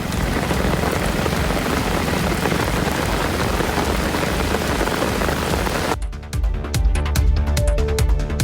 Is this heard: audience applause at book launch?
no